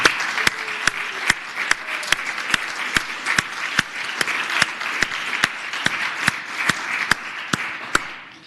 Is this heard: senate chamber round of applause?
yes